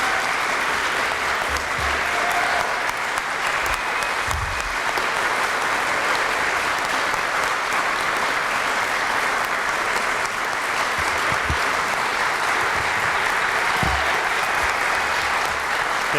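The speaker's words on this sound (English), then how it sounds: "you're always worried when the applause is that big at the beginning before they've heard anything" Loud, sustained applause fills a university gathering welcoming a president-elect, a dense crowd clapping steadily and evenly throughout with no letup.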